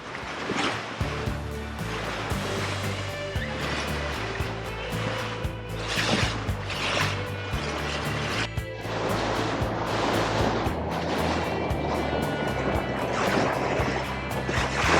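Ocean waves wash and slosh around a slow-moving boat near Frederick Sound on the way from Tracy Arm to Petersburg, a loud, continuous surge over a low, steady hum.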